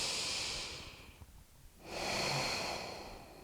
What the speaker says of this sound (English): Last time, deeply inhale.